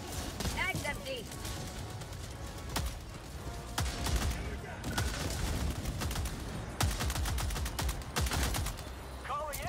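Marksman rifle fire in Helldivers 2, repeated sharp shots at a quick rate amid other loud combat noise and explosions, with a voice talking over parts of it.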